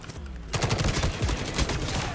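Rapid gunfire from the mobile shooter Call of Duty Mobile, a dense burst of shots that starts abruptly and keeps rattling close and loud to the end, with no voices over it.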